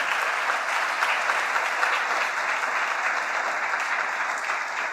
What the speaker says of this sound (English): Let's give a round of applause to Weil, who is with us here tonight.